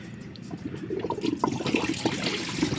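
Coolant draining from the engine of a VW Golf 7 1.6 TDI into a bucket during a timing belt and water pump job: a close, splashing, gurgling pour of liquid that grows steadily heavier.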